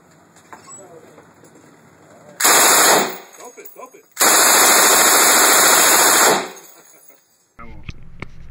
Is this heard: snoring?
no